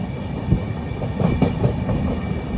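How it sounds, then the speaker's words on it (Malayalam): A Madhya Pradesh Sampark Kranti Express, travelling from Hazrat Nizamuddin to Jabalpur, runs at speed, heard from inside a sleeper coach: a steady, loud rolling rumble with faint rhythmic wheel clatter throughout. "ട്രെയിൻ ഇപ്പോൾ വീണ്ടും നല്ല സ്പീഡിൽ തന്നെ പോവുകയാണ്."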